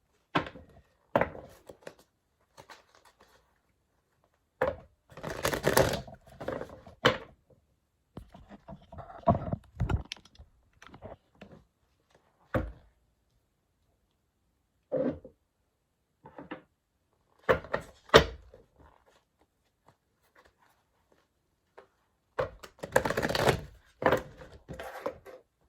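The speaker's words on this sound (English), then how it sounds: "I'll get some cards to support this reading further" Tarot cards are handled and drawn, heard as scattered soft thumps, taps and shuffling rustles in uneven bursts separated by near-silent pauses, close by and without speech.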